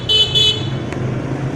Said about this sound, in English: Yeah, they like using their horns.